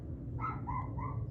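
In a residential neighborhood with houses packed close together, dogs let out a short run of yips and barks at medium distance. The barks come in quick succession over steady low background noise, and no voices are heard.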